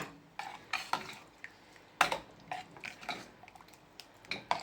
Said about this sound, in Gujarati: મરચાં તીખા પછી ધાણા બધા નાખી દેવાના પછી આપણે એને હલાવીને લેવાની પાછી